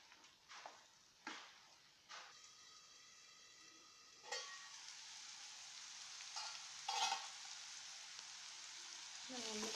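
Okra pieces sizzle and crackle in a pan for a fish curry, quiet frying broken by occasional stirring clatters and sharper bursts.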